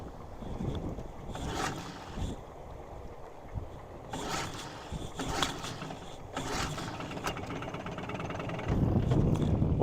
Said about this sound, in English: I'm gonna use the gas-powered motor.